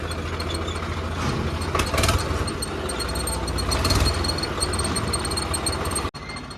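A tractor engine, a modified 855, idles nearby with a steady low diesel rumble, briefly revving louder twice before a sharp cutoff near the end, during wheat harvest.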